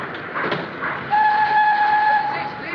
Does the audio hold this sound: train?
yes